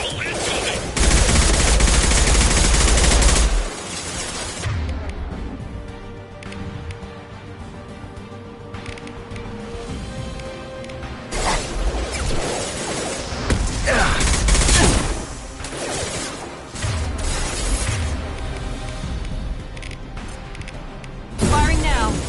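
Gunfire in the Mass Effect 2 video game, a loud dense burst of shots opening the scene, then sporadic bursts and booms over a busy combat backdrop, with voices talking in between.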